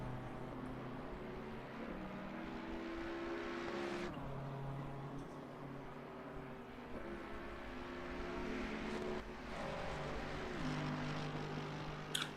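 Mercedes-powered race car engines droning continuously at Monza during a two-hour endurance race, with steady engine tones rising and falling as cars pass, loud and sustained without speech.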